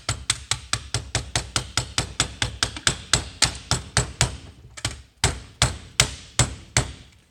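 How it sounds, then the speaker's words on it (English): A soft mallet tapping a Ryobi router guide bushing into a tight fit, a rapid series of sharp, close knocks that slows to spaced single taps toward the end. "You take a soft mallet."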